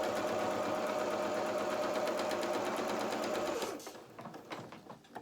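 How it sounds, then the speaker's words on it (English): Sewing machine stitching slowly through thick trouser fabric at a pocket: a steady, loud mechanical whir and rapid needle chatter that stops near the end, followed by faint handling noises. "It's quite thick where this pocket is, so just take your speed down a little bit, let your machine just accommodate it."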